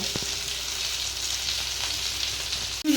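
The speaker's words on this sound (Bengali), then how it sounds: "নুন হলুদ দিয়ে দিলাম, দিয়ে কিন্তু এই কষাচ্ছি টমেটোর সাথে বেগুনটা" Tomatoes and brinjal sizzle steadily in a hot pan while being stirred, a continuous close frying hiss with a light scrape near the start and a knock at the end.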